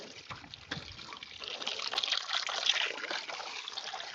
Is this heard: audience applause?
no